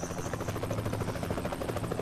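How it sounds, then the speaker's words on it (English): A helicopter's rotor in American Truck Simulator thumps in a fast steady chop, faint and somewhat distant, holding at an even level throughout. "Oh wait, that's a helicopter."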